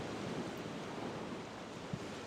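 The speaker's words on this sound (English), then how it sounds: "living where the waves crash" Ocean surf rolling onto the shore, a steady broad wash of breaking waves with a slightly louder surge near the end, heard alone without voices.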